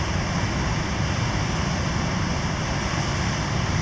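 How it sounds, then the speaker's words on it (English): A waterfall on Minnesota's North Shore in April: a steady, dense rush of falling water, loud and unbroken throughout, heard alone without speech. "pretty little spot here for watching the waterfall from"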